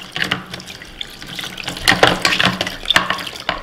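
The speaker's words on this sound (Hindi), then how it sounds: "अब मैं आपको छन्नी धो के दिखाती हूँ।" Running kitchen tap water splashes over a metal tea strainer being rinsed clean, with irregular clinks and rattles of the mesh against the sink, fairly close and steady with louder bursts.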